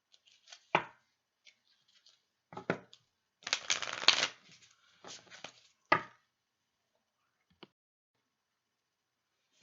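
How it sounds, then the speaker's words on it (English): A Modern Witch Tarot deck is shuffled by hand in bursts of quick riffling and card slaps, with pauses between, close and fairly quiet with no talk over it. "I'm going to go and shuffle."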